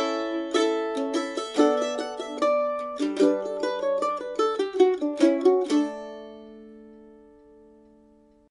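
Mandolin plucks a run of separate bass notes from the B section of the fiddle tune Cumberland Gap, several quick picked notes ringing against drones, then the last chord is left to sustain and fade out alone.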